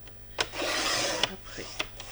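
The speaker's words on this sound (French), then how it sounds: "Donc dans l'autre, je vais couper encore donc 2 petites bandes." Scissors cutting paper strips for a Christmas mini album with a table decoration, a close, dry sliding cut with a few sharp snips between.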